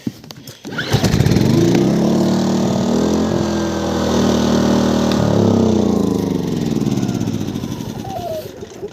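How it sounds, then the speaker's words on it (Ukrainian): A Fogo 2000is inverter generator running after an ignition coil replacement: the engine catches and settles into a loud, close, steady hum with slight rises and dips in pitch, alone without speech. "випробовуємо фого той, що з катушкою"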